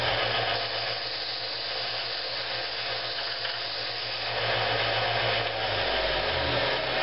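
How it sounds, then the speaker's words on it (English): A belt sander runs steadily as a plastic umbrella handle is rotated against the moving belt, giving a continuous whining drone with a low motor hum, close and alone for several seconds. "turn the belt sander on, and as the belt's moving down, you want to rotate this umbrella handle towards you"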